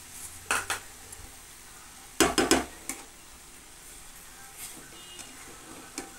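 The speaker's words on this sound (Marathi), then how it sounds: "चला मी हलवून घेते. यातच आपण साखर टाकूया." Carrot halwa with sugar stirred in a pan, with clusters of sharp spoon clinks and scrapes against the pan over a quiet background.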